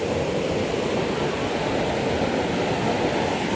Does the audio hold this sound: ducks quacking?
no